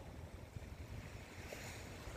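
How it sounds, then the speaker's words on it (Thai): Waves breaking on the shore at Hat Saeng Chan beach in Rayong, a soft continuous wash of surf with wind rumble, faint and distant, no voices. "คลื่นกระทบฝั่ง เนี่ยเสียงคลื่นสาดกระทบฝั่ง"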